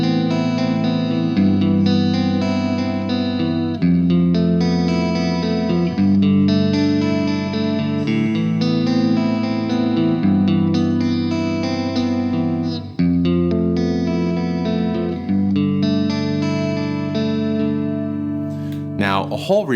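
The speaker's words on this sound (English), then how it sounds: "You have a hall reverb." Electric guitar played through the hall reverb setting of a Fender Dual Marine Layer reverb pedal, sustained chords and notes ringing with a large, washy tail, loud and continuous throughout with a brief string scrape at the end.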